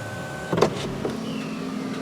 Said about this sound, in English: The front portion does open up like a regular moonroof, plus there is a wind buffer.